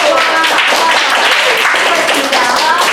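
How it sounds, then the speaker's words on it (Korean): Middle-school students in a Korean home economics class applaud together, a dense, continuous patter of many hands clapping close by throughout. "얘들아 박수!"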